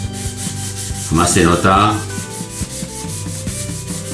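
Sandpaper rubbing over rough varnished wood on a model of the Flying Dutchman ship, a steady scratchy back-and-forth that swells loudest midway, close up, with a short spoken remark.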